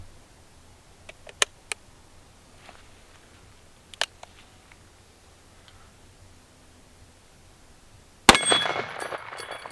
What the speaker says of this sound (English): we're going to load it up with 3 rounds of this 454 Casull, and see how that performs out of this gun.